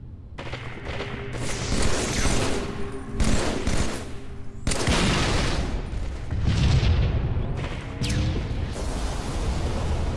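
Sniper rifle shots ring out in a Halo 3 team slayer match, with sharp booming cracks amid loud, continuous in-game gunfire and explosions.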